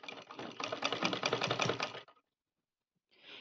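A sewing machine stitching fabric for a Rajputi poshak blouse, a fast mechanical rattle of needle strokes running for about two seconds, then stopping, followed by a short faint burst near the end, close and alone.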